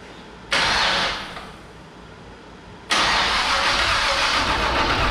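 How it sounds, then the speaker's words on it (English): An old 1967 Chevrolet C10 truck engine cranks over after sitting ten years, the starter spinning it in two loud, steady bursts with a short pause between, no firing, close to the microphone. "All we want to do is get the engine to turn over."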